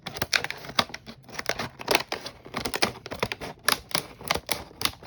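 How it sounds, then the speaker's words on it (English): A blade slices open the cardboard shipping box of a new Penn Pursuit 5000 fishing reel, giving a close run of sharp, rapid scratchy cuts and rips in irregular bursts with no one talking. "So the first thing I'm going to do is cut this box open."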